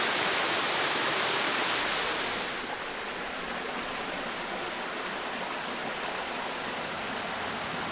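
Steady, dense rushing of a waterfall in the Bugey region of France, a constant broad roar of falling water that softens slightly partway through, with no voices.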